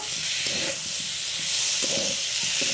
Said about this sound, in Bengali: আদা রসুন বাটা দিয়েছি, দিয়ে একটু ভালো করে ভেজে নেব।